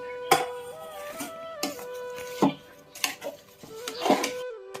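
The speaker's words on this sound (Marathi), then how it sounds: "आता आपण याला गुळ घातलं, हलवून घेऊ." A spoon stirs jaggery into wheat kheer in a metal pot, producing repeated clanks and scrapes against the pot in an irregular rhythm, close by, over a steady tonal hum.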